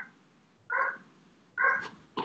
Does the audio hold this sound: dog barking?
yes